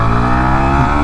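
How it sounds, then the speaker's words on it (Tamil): A Yamaha MT15 V2 motorcycle engine pulls hard through an acceleration test, a steady, loud revving drone with layered harmonics that holds close and continuous without a break. "ஸோ இந்த பைக்கோட ஆக்சலரேஷன் டெஸ்ட் பண்ணலாம்."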